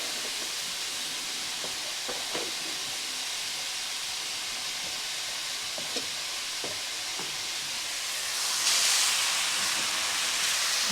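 Fried Maggi noodles made with atta sizzling in a hot pan with soy sauce, a steady close hiss with occasional clicks of stirring, swelling into a louder burst of sizzle near the end, no voices.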